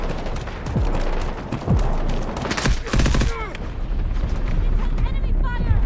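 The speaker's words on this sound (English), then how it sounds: "Enemy fire!" Enemy gunfire crackles in rapid bursts of shots and booms, loud and close, with brief whistling streaks between volleys.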